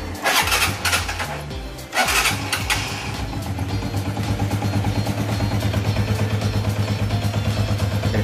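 A vehicle engine cranks in a couple of short bursts, then catches and settles into a steady, rhythmic idle, heard up close and fairly loud.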